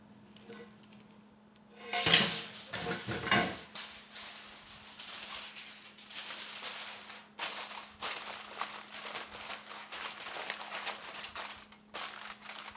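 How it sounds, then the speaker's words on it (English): A covered dish being set into a home oven, starting with a loud clatter of pan and rack and metal clinks, then quieter scattered rattles and knocks over a low steady hum, no talking. "And put it in our oven for 10 minutes."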